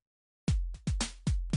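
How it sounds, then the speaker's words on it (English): Synthesized noise from a device built in Ableton Live, spread in stereo, arriving after a half-second of silence as a run of five or six short percussive bursts with deep low thumps and bright noisy tails, fairly quiet, no talking. "we can hear that that noise is now stereo"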